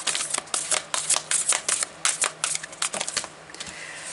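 Oracle cards shuffled by hand at close range, a rapid, uneven run of crisp papery slaps and riffles repeating steadily without any talk.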